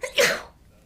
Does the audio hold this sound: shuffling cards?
no